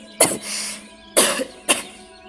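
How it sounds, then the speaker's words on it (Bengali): An elderly woman in the next room gives three harsh coughs as a sound effect in a rural Bengali ghost story, with a long first cough followed by two shorter ones, close and fairly loud. "পাশের ঘর থেকে দাদির কাশির শব্দ এলো।"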